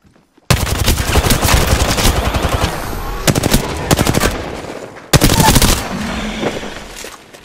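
Video game enemy gunfire: sustained bursts of close, loud automatic fire in rapid rhythmic volleys, pausing briefly before new bursts resume, with faint shouting mixed in.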